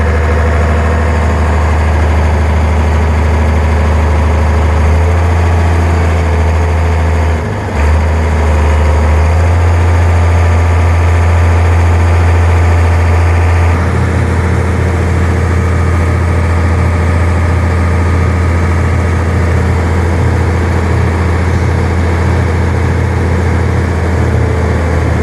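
A farm tractor engine runs steadily throughout, a loud, low rumbling drone with constant vibration and a brief dip partway through, then a slight change in tone as it continues without pause.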